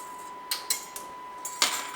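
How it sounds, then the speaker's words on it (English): A utensil clinks and taps against a bowl a few separate times while baking powder, salt and other dry ingredients for skillet cornbread are mixed, close and fairly crisp. "And I'm just going to mix these together."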